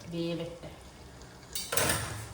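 Cooking pots clatter in a home kitchen during biryani preparation, with rice water boiling nearby; a faint tonal hum comes first, then a short, loud burst of metallic clanking near the end.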